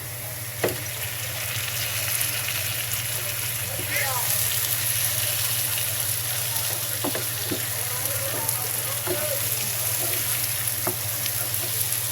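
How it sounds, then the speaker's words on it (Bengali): Peeled shrimp frying in a pan for a coconut shrimp dish, a constant loud sizzle with occasional crackles and utensil taps, and a voice speaking faintly now and then. "আমি এখন চিংড়ি মাছ দিয়ে দিচ্ছি।"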